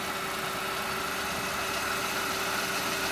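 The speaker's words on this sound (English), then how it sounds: "the engine's just ticking away nicely" A Mercedes CLK idles with a steady, even engine hum and a faint constant tone, close by and unchanging with no voices.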